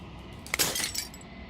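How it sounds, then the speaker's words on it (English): Glass shatters in the video game Slay the Princess: a sharp crack followed by a bright, tinkling spray of fragments that rings out and fades over about a second, moderately loud, with no talk. "As the final fragment of glass shatters"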